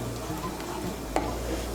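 Spice paste is stirred into a sizzling pan of hot oil for a Bengali duck egg curry, giving a continuous close frying hiss with faint scraping and a brief clack of the spoon.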